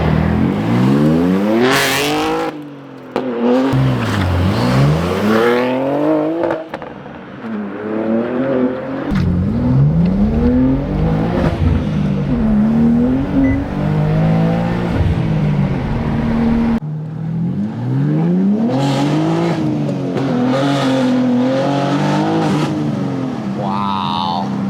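A BMW M4 with the S58 engine, Super Sprint mid pipe and M Performance exhaust revs hard and loud, its pitch climbing and falling through repeated runs with brief gaps between pulls.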